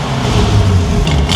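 A V8 4-litre biturbo engine roars close and loud in a continuous heavy growl, with a brief rise in revs near the end.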